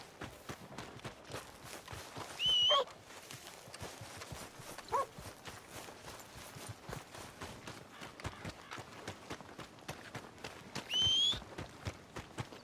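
A horse in Red Dead Redemption 2 clip-clops along at a brisk, even gait, hoofbeats continuous and fairly close, broken twice by a brief high whistle-like tone.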